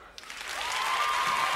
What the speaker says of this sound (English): I'm going to need a round of applause for people who go to church.